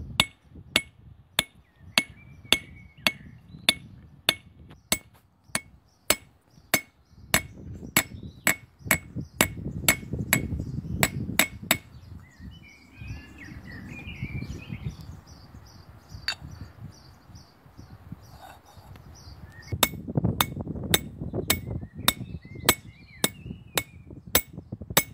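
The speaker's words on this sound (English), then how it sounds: "I'm hammering" A hammer peens metal in sharp, ringing, evenly spaced blows, close and loud, with insects and birds chirping faintly in the background.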